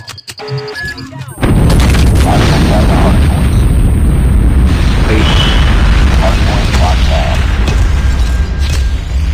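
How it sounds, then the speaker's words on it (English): A nuke detonates in a first-person shooter game, a sudden massive boom that turns into a long, loud rumbling roar filling the whole stretch, with faint game voice chatter beneath. "friendly nuke has been launched."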